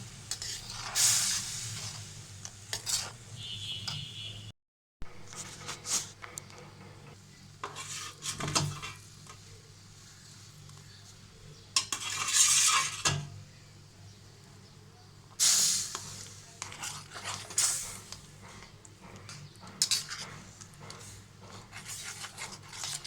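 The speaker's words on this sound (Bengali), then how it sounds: "এখন দুধ আর চিনির সাথে ভালোভাবে মিশিয়ে নেব।" Milk and sugar are stirred in a metal pan for chhana chocolate sweets, the spoon scraping and clinking in irregular bursts over a soft background hiss, with one brief silent gap.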